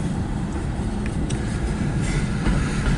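A long CN freight train rolls slowly past in Port Huron, Michigan, a steady dense rumble of wheels and cars with faint clatter, continuous and close throughout.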